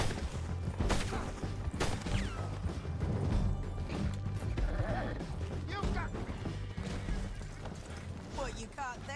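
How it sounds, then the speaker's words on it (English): A horse neighing and whinnying after being shot in a video game, amid crashes, thuds and hoofbeats, with voices talking over the commotion. "Deixa eu dar um tiro no cavalo."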